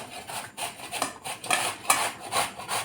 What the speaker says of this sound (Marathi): तर आता आपल्याला काय करायचं आहे कैरी किसून घ्यायची आहे